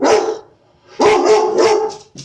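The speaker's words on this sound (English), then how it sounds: "Sorry for the loud barking." Dogs bark loudly and close by in a household, a short burst followed by a pause and then a second run of several rapid barks.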